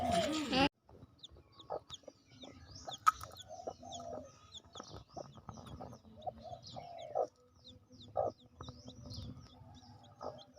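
Chickens cluck in a backyard coop during a morning, joined by the scattered high peeping of newly hatched chicks, with sharp nearby calls punctuating a quiet background.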